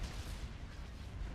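Iron cannons fire in a Star Wars: Empire at War space battle, giving a dense, rumbling wash of low booms and blasts that runs without a break through a short moment, with no voices.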